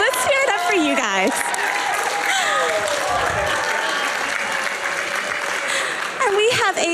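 Audience applause at SGDQ 2019, a live speedrunning charity event, continuous and loud throughout with scattered cheers and whistles, while a voice speaks over the clapping.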